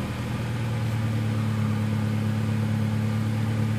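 A Honda Del Sol engine runs steadily on fresh spark plugs, a close, even idle hum with strong low harmonics and some rattle from loose plastic underneath, holding constant throughout with no talking.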